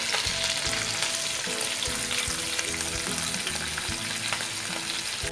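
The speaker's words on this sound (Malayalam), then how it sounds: "ഇനി ഈ ചിക്കൻ ഒന്ന് അതിൻ്റെ സൈഡൊന്ന് മുരിയാൻ വേണ്ടിയിട്ട് ഇതൊന്ന് ചരിച്ച് വെച്ച് കൊടുക്കാം." A whole chicken frying in oil inside a pressure cooker, a steady dense sizzle and crackle with occasional scraping or stirring knocks, loud and continuous throughout.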